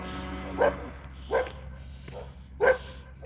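A dog barks three times at a rural property where cows are usually kept. The barks are sharp and spaced about a second apart, at moderate distance, with no talking.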